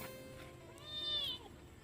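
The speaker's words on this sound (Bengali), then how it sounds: "একটা নিউ বিড়াল বাচ্চা আমাদের এখানে এসছে" A young kitten, a new arrival from next door, gives a single soft, rising meow midway through, faint and close against light room noise.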